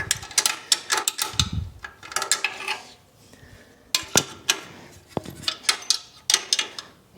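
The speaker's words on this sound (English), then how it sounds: "Try the wrench." A wrench works on the hardware of a 1966 John Deere 110 round-fender tractor, giving repeated close metallic clicks and ratcheting clatter in irregular bursts with short pauses between.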